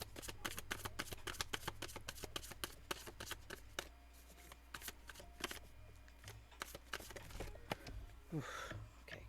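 A deck of tarot cards is shuffled and drawn, a close, soft, rapid flutter of riffling card edges that runs almost continuously at low volume with brief snaps as cards are pulled.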